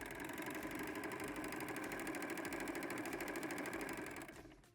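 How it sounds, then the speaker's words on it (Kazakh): A sewing machine stitches a quilt with blue thread in a steady, fast, continuous mechanical whir close by, running alone until it slows and stops near the end. "Көк жерін көк жіппен тігіп келеміз."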